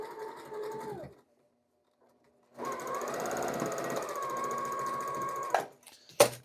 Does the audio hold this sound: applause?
no